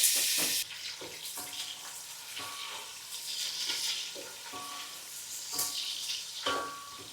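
Sliced onions go into hot oil with fennel seeds in a pot for mutton biryani. A close, steady sizzle is punctuated by intermittent stirring clatters, and nobody speaks.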